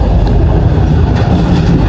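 Cakrabuana passenger train running on the rails, heard as a loud, close, continuous rumble with a constant roar and no pauses.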